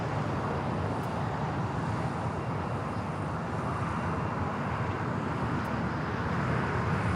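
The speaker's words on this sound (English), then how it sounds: "Do have an Atlas Air 747-400 freighter heading to Hong Kong, flight 9819. We'll be taking off here on the south side." Atlas Air Boeing 747-400 freighter bound for Hong Kong takes off from the south side of Los Angeles LAX, a steady broadband engine roar that holds loud and unbroken throughout with no voices.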